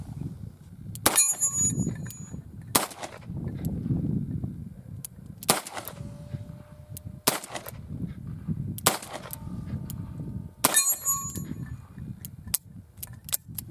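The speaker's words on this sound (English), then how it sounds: "We've got our standard steel target set up downrange, and we're going to try to shoot it all double action." Smith & Wesson 625 revolver firing .45 ACP double action at a steel target downrange: six loud, sharp shots spaced roughly a second and a half apart, each followed by a brief metallic ring from the struck steel. No talking.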